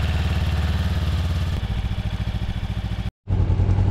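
A Honda CB500X motorcycle engine idles steadily up close while warming up, a loud, even low throb with a slight clatter, briefly cutting out near the end before resuming.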